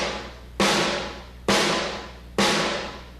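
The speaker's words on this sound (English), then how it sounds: "the 3 tones I like to use are like the real fat back tone, and that's kind of like playing in the center of the drum without hitting the rim" Three fat, full-bodied snare drum strokes played in the center of the head with the butt end of the stick and no rim, each a loud crack with a long ringing decay, evenly spaced about a second apart.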